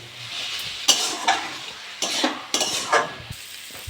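Red amaranth greens with potato fry in a pan, a low, steady sizzle punctuated by repeated close scrapes and clinks as a utensil stirs them.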